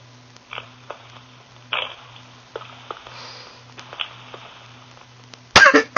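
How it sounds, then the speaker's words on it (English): A person makes several small sniffs and throat sounds, then lets out a sudden loud, close cough near the end. "I'm coughing, not sneezing."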